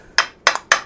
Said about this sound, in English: you can actually just tap the piece out and that's it.